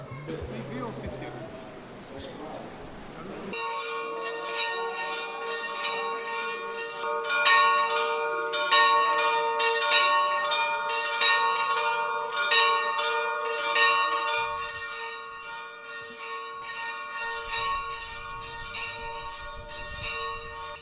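Church bells peal in the old town of Herceg Novi, Montenegro, after a brief murmur of street noise. The overlapping strokes ring loud and continuous for about seventeen seconds, with the hum lingering between strikes.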